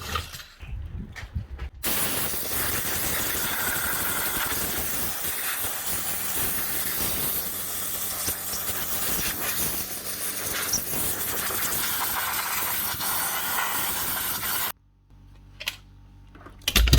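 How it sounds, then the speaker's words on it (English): Air compressor nozzle blowing dust out of Metabo MFE40 wall chasers in a workshop, a loud, sustained hissing blast of air lasting about thirteen seconds between brief quieter handling at the start and end. "I'm going to blow the two of them out to clean out the dust"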